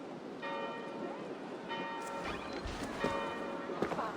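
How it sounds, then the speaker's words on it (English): Church bells in the Assassin's Creed Valhalla video game ring in a few slow, sustained strikes, each tone lingering and overlapping the next under a soft ambient wash. "Do you not hear the bells?"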